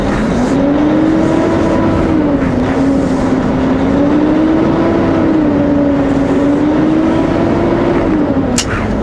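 Vehicle pulling away on a snowy, slippery road near Calgary, its engine droning loud and close with a slowly wavering pitch as it gets moving, steady throughout with a brief click near the end.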